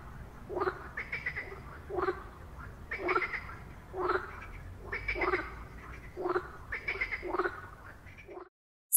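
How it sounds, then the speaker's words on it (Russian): A frog croaks in a steady series of about seven loud, close calls spaced roughly a second apart, alone with no other sound, then stops abruptly. "Лягушка квакает."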